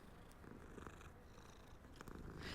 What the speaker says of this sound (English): There's so many cats in this game.